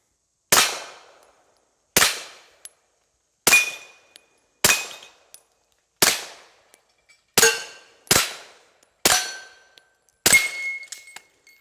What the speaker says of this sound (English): Now we're gonna run our 147 grain ammo. We're gonna run her suppressed.